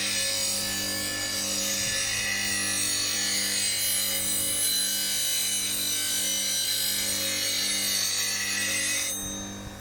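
A woodturning gouge is ground on a spinning grinding wheel, giving a continuous high, hissing rasp over a steady motor hum. It runs unbroken at close range, then cuts off abruptly near the end, and no one speaks.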